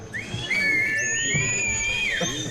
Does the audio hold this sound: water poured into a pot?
no